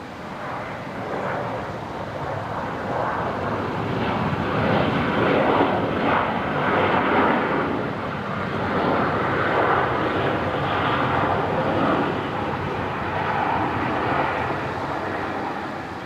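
A Qantas airliner arriving from Sydney touches down on runway 01 right at Brisbane Airport, its engines giving a steady, loud broadband roar that swells slightly and holds throughout, with no talk.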